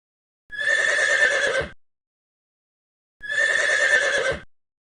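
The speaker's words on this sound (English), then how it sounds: "This is a horse." Two loud, close horse neighs, each a shrill whinny lasting about a second, separated by a brief silence.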